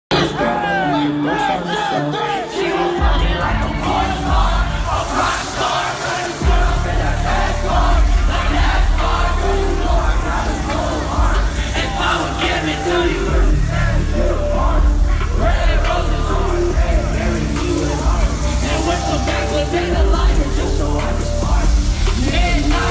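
A packed crowd at a rap concert yells and cheers during crowd surfing, a loud, continuous roar of shouting voices, heavily distorted and close.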